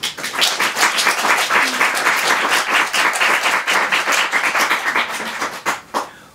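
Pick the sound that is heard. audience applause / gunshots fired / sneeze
audience applause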